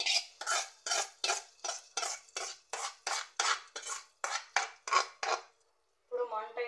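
Metal spoon stirring a tamarind dish after a tempering is poured in, about fourteen evenly spaced, close scraping strokes against the pot, then a brief pause before a short burst of softer clatter.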